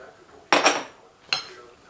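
Melted butter is stirred into beaten egg whites with a utensil, giving two distinct scraping clinks against the bowl, the first longer and the second shorter, in a quiet kitchen.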